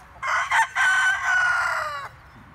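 A rooster lets out one loud, close crow lasting about two seconds, broken at the start by short stutters and dying off with a few soft clucks, with no voices.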